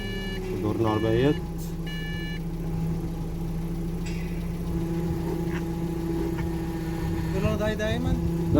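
Engine of a Speranza 516 car running at a steady idle, a continuous low hum close by, with brief beeping tones near the start and people talking over it.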